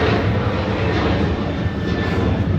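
A Jet2 holiday jet airliner roars overhead after takeoff, bound for Alicante: a loud, steady broadband engine rush with a faint high whine running through it, filling the whole stretch without a break.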